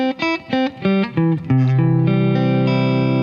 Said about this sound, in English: I've broken that chord up into an arpeggio